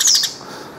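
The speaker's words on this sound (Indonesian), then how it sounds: "Ini namanya gereja pohon betina." A female Eurasian tree sparrow gives a quick series of bright, high chirps, close and clear, fading after a fraction of a second.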